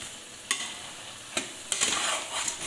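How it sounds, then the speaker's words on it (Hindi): Grated carrots and sugar are stirred and roasted in a pan for gajar halwa. A soft hiss runs under a few distinct scraping strokes of the spoon, close and moderately loud. "तकरीबन इसको 1/2 घंटे के लिए भुनेंगे।"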